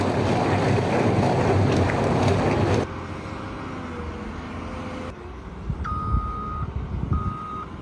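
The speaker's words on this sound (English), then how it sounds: "the legendary Caterpillar 980 wheel loader rules the production floor with absolute authority" A Caterpillar 980 wheel loader at an industrial quarry reverses with steady electronic beeps repeating over heavy engine rumble and wind noise, the sound shifting as the scene cuts.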